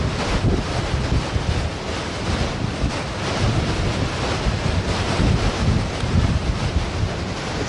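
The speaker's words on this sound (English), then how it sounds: "This is the strongest wind I've ever been in." Strong, gusting wind roars without a break across the microphone on the rocky summit of Humphreys Peak in Arizona, a loud, dense rush that swells and eases slightly.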